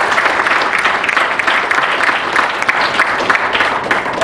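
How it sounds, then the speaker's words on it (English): Dense, sustained applause from a sizable audience at a school business barbecue event, steady and loud throughout with no break. "I think you all deserve a second round of applause for that."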